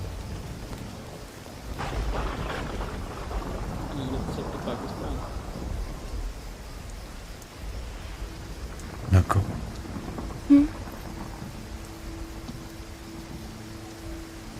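Steady rain hiss with low rumbling thunder throughout, a couple of sharp louder cracks near the end, and a voice speaking briefly.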